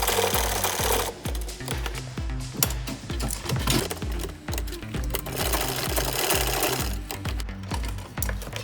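Sewing machine stitching a three-layer structured sleeve, its needle hammering in a fast, steady mechanical rhythm with brief pauses and speed changes, close and clear with no talking.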